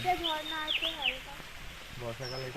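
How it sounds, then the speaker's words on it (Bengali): Birds calling in a quiet hill forest on a tea estate near Darjeeling. Several chirps and whistled notes come and go while a person talks over them. "কত পাখি ডাকছে এখানে, দুর্দান্ত।"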